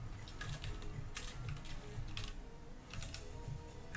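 Quiet typing on a computer keyboard, a steady patter of key presses in short bursts with brief pauses, close by and alone without speech.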